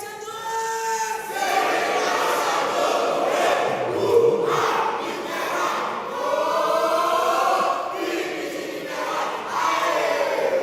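A church congregation shouts a cheer together, loud sustained group yelling in repeated waves that fill the room, with a leader's voice between them.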